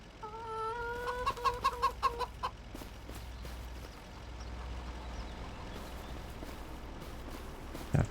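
Chickens cluck in a farm setting in Farming Simulator 25, with a quick burst of clucks early on over a low vehicle hum, then a quieter stretch of steady engine drone.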